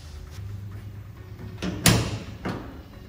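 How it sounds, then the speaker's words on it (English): A few soft knocks and rustles, then a sharp solid thump of a 1930 Ford Model A Roadster door shutting, followed by a lighter knock. "Door shuts and works."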